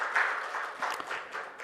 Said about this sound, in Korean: 우리 격려의 박수 한번 쳐주시고 인사하고 들어가시면 되겠습니다